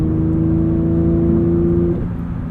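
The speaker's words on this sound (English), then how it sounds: "something about this flat six is just incredible" A deep, steady flat-six engine drone from a manual Porsche 911 GT3, with strong harmonic tones, held at a constant pitch before easing off slightly near the end.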